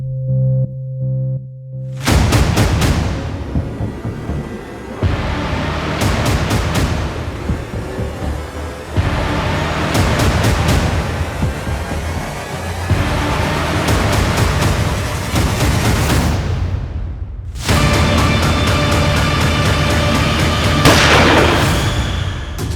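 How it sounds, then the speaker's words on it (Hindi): Several sharp, booming gunshots crack out one after another over a loud, dense backdrop of sustained tones, with a steady electronic beep at the start. "ये गोली चलने की आवाज थी ना?"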